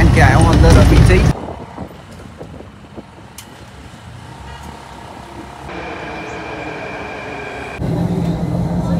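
Delhi metro train, a loud rumbling and rushing rail noise that drops to a quieter rolling hum with faint squeals before surging again near the end, with a voice speaking over it.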